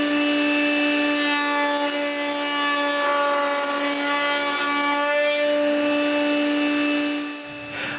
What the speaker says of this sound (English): I mark the grooves placement and cut them